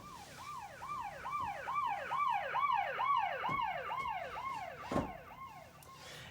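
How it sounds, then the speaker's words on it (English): A police siren sound effect used in a music beat wails, sweeping up and down in rapid, regular cycles, loud and close, with a couple of sharp thumps partway through. "I got a little police siren."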